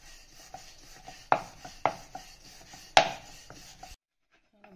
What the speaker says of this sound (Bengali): বাটি বসিয়ে কেটে নিচ্ছি।